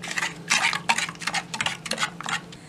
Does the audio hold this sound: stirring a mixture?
yes